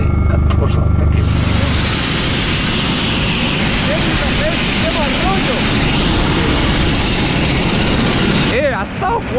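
Helicopter landing in Tórshavn, Faroe Islands, a loud continuous rotor and engine rumble that runs throughout, with a brief change near the start and at the end.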